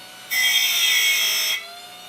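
A power drill held in a converted camper bus runs in one steady, loud burst of about a second and a quarter, starting and stopping abruptly, with no talk over it.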